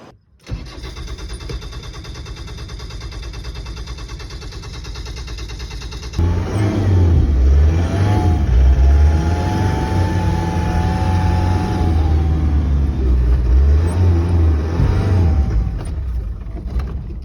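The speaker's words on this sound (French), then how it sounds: "Même en accélérant là, en restant en première, ça l'a fait." A faulty car engine, idling unevenly then revving harder in first gear on a deserted beach, rises into a loud, steady, rough drone that holds for several seconds without talk.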